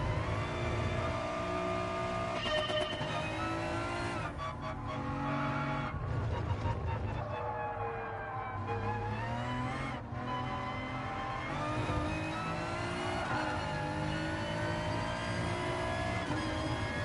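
A race car in Gran Turismo Sport at Autodromo Lago Maggiore West II revs loudly with a continuous engine whine that rises and falls through gear changes and corners, tires squealing at points, with a voice talking over it.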